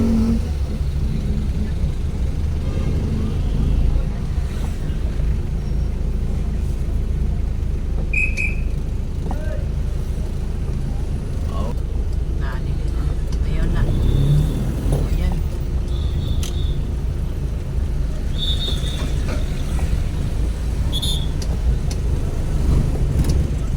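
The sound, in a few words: city street road traffic, Iligan City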